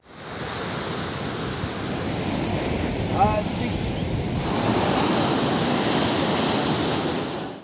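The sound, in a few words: cyclone rain with gusty winds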